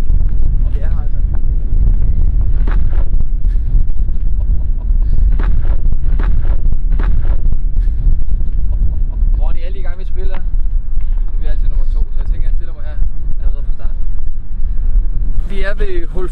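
Strong, continuous wind buffets the microphone on a cold, open footgolf course, with loud low rumbling throughout as people talk over it.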